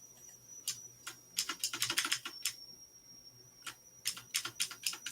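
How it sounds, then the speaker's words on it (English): Loud, clacky typing on a computer keyboard set up to sound like a typewriter, bursts of rapid keystrokes with a pause in the middle, close and alone over faint background hum. "sometimes the keys are really loud when I type on it"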